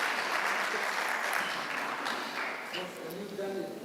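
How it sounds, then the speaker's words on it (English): A university research conference audience gives a round of applause, a moderate steady patter of clapping with faint voices underneath that tapers off. "Let's give them all a round of applause."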